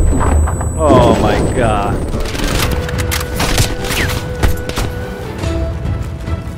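Loud blasts and gunfire in a Call of Duty Cold War firefight, with a grenade going off amid rapid shots, while a player exclaims over the noise.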